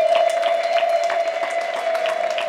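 Wedding guests clapping in rhythm at a Rwandan wedding celebration, with a steady high ululating tone running underneath the crisp, moderately loud claps throughout.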